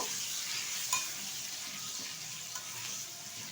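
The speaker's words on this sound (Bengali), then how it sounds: "এবার ভালোভাবে একটু ভেজে নেব" Potato and eggplant pieces with turmeric frying in oil in a pan, a soft steady sizzle with a couple of light stirring clicks, no talk.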